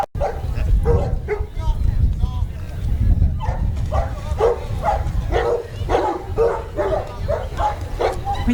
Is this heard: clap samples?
no